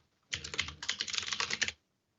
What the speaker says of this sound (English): I'll just type that in the chat.